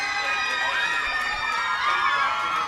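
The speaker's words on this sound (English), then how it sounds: "A busload of Stone Ridge students greeted Katie at the airport, and when she walked through customs, there were screams of pride" Stone Ridge students scream and cheer at an airport as a 15-year-old Olympic champion walks through customs, a dense, shrill wall of young voices sustained throughout at close range.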